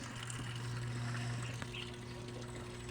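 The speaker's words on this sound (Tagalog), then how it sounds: "okay na yung tubig, yung flow ng tubig. Ayan, nag-flow na." Water flowing into a Whirlpool washing machine being tested after a control board replacement, a faint steady wash of running water with a low pump-like hum underneath and no voices.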